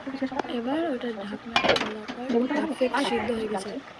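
A metal lid on a cooking pot is handled and lifted, giving several close clinks and clatters while a person keeps talking over them.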